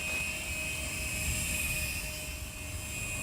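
A Walkera 4F200LM six-channel RC helicopter powered by a 2-cell 1500 mAh LiPo hovers steadily, its high electric motor whine and rotor buzz holding a constant pitch, close and unbroken with wind in the background.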